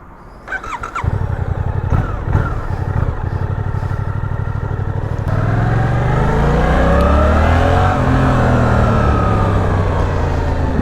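A 2023 Suzuki GSX-8S twin-cylinder motorcycle, heard close up as the engine idles and blips in quick throttle revs, then pulls away accelerating hard with a rising, sweeping engine note through the gears.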